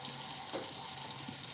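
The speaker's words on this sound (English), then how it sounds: "I'm running water so I can fix me some coffee." A kitchen tap runs into the sink, giving a steady, moderately faint rush of water with no talk over it.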